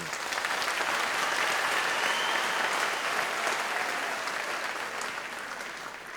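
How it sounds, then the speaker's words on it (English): Audience applause fills a university graduation ceremony in Pretoria, a dense, steady clapping from a large crowd that holds loud and even for about six seconds before easing slightly at the end. "Let's give them a round of applause, please."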